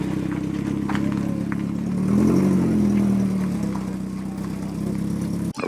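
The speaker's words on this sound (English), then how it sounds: "Lotus Esprit is on the move." A classic Lotus Esprit moves off at a Brooklands Museum New Year's Day car gathering, its engine note swelling midway as it drives past, then settling back to a steady hum.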